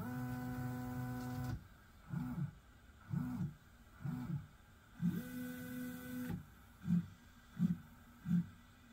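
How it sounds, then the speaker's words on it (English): A CNC machine homes its axes using a FluidDial pendant with FluidNC: a steady motor whine first, then a series of short repeated stepper-motor pulses and buzzes as each axis moves, near and moderately loud. "So if I press the green button, the machine will home."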